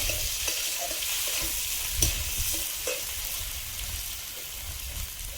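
Dried chilli, crushed garlic and spices with potato frying in a pan, a steady close sizzle and crackle with occasional stirring scrapes, no talking.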